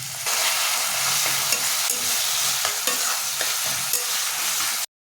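Onion, ginger and garlic fry with chopped tomato and a splash of water in a pan, a loud continuous sizzle close by, punctuated by light scraping taps of stirring, with no talking.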